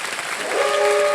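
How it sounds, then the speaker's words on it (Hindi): Studio audience applause on the quiz show Kaun Banega Crorepati, a short burst of steady clapping from many hands, fairly close, joined partway through by a sustained tonal whistle-like sound that continues to the end. "तालियों के साथ इनका हम"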